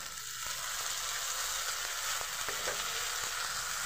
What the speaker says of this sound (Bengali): এটা একটু ভেজে নেওয়ার পর দিয়ে দেব আদা রসুন, একটু কষিয়ে নিলাম।